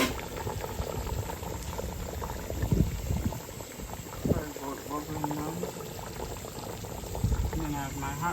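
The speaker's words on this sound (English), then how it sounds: "it continue boiling." Steady bubbling of water boiling in a pot at an outdoor cooking fire, a continuous churning hiss with someone talking over it at times.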